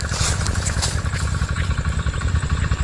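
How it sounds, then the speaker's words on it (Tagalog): Boat engines run with a rapid, pulsing clatter, loud and close, a continuous mechanical drone with no voices. "Maingay lang po yung mga makina"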